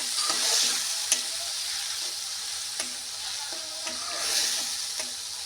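Ginger, garlic and onion paste being sautéed in a pan for a prawn malai curry: a soft steady sizzle with occasional light scrapes and taps of stirring, fairly quiet and with no voices.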